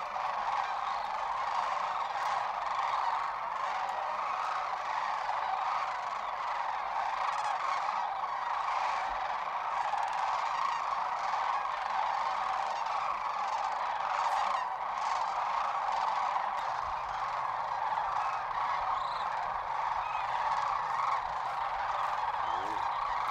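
Huge flocks of sandhill cranes call at White Water Draw, Arizona, a dense, continuous chorus of rolling, trumpeting bugles from many birds at once, loud and unbroken.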